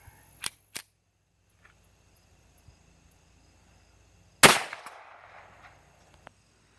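One sharp, loud report from a .22 firing a Remington Golden Bullet high velocity hollow point round, with a short decaying tail. Two smaller clicks or pops come first, and the rest is quiet.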